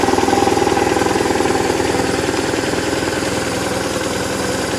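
An old motorcycle idling at about 1100 RPM with the choke off, running on years-old fuel, a close steady pulsing putter with an even rhythmic beat throughout, no voices.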